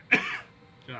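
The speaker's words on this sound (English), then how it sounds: "God, I have the big coughs today." A single abrupt cough bursts out, followed by a brief breathy tail and a faint voiced sound at the end.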